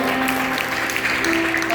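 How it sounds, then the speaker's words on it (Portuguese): A church congregation applauds, a dense, loud wash of clapping filling a large room, with sustained tones from the band or organ running underneath. "Aplauda o Senhor porque Ele é bom."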